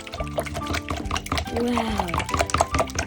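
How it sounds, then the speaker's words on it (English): Paintbrush rinsed in a cup of water, with splashing and swishing liquid sounds heard under a voice briefly speaking. "Time to rinse off our paintbrush."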